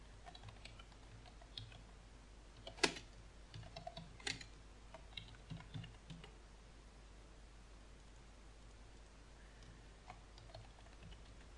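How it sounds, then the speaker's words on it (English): Quiet typing on a computer keyboard while entering data into an MS Access database, with scattered soft key clicks and a couple of sharper keystrokes early on, then sparse taps over low background hiss. "Type in cash."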